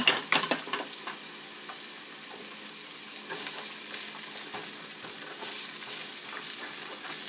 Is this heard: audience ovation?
no